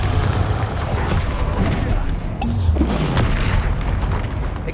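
Deep booming blasts from the Confringo fire spell in Hogwarts Legacy, heavy low rumbles and bursts in a dense game battle mix, loud and close.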